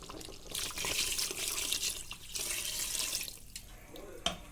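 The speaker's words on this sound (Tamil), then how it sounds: "ஒரு டம்ளருக்கு ரெண்டு டமார் தண்ணி ஊற்றிருக்கேன்" Water pours steadily into a pot for cooking mutton biryani rice, a rushing, splashing stream that falters briefly in places, ending with a small clink.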